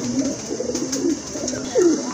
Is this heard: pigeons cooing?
yes